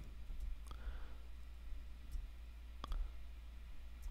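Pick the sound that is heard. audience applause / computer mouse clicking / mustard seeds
computer mouse clicking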